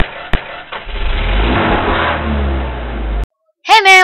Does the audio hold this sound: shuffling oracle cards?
no